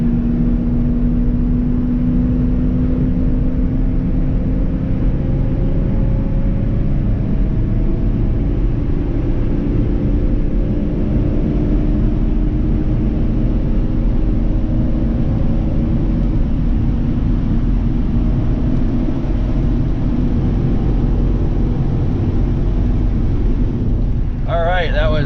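Ford Excursion with a gas V10 engine on a test run, a loud, sustained engine rumble that holds steady and climbs gradually in pitch before cutting off near the end.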